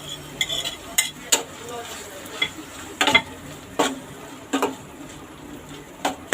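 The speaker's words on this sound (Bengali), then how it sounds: "এখন এর মধ্যে আমি টমেটো কুচিগুলো ছেড়ে দিব, কাঁচামরিচ ফালি করাগুলো দিয়ে দিই।" Chopped tomatoes and sliced green chilies go into a sizzling shrimp curry, a low frying hiss under a scattering of sharp clinks and scrapes from a utensil against the pan.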